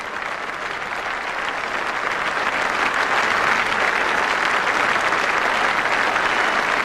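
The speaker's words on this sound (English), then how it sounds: "Marvellous applause all around the ground." A cricket ground crowd at a 1996 Test match against England applauds warmly, a dense, sustained wash of clapping from all around the stands that holds steady and swells slightly, with no voices over it.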